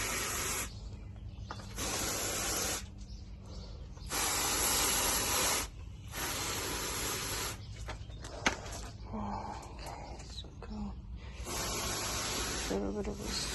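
Water is misted onto greenhouse plants in a series of short and long hissing sprays from a nearby sprayer, separated by brief pauses with faint rustling.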